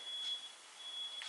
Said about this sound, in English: There's a truck outside beeping.